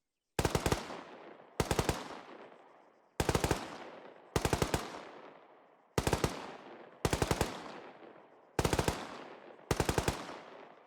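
Machine gun fire in the military video game Arma 3, eight short bursts of several rapid, loud shots each, evenly spaced with brief pauses between them and no talking.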